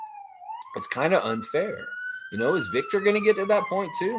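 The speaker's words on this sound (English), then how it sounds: "Excuse the sirens of the city." A wailing emergency siren rises and sweeps steadily across the whole clip in a city, heard behind people talking close by.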